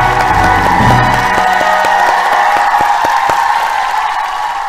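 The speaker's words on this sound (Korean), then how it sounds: "박수로 영광을 빵빠레를 울려라." Church congregation cheering and applauding at a Korean worship service, a loud dense wash of clapping and shouts with a fanfare-like sustained tone underneath, steady throughout and fading slightly at the end.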